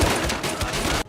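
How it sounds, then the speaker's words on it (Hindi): Rapid gunfire from a film shootout, two or three quick shots followed by return fire, dense and loud throughout a burst of overlapping bangs before cutting off abruptly near the end. "उसने वैसा ही किया और धड़ाधड़ 2-3 गोलियां सियोक हो को मार दी।"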